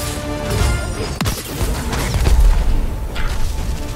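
A video game grenade going off, a deep booming blast with a sharp crack near the middle, heavy low rumble lingering afterward amid game noise.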